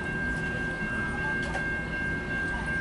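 A MARC train hauled by an SC44 locomotive rumbles past at a distance, a steady broad roar with a sustained high whine running through it.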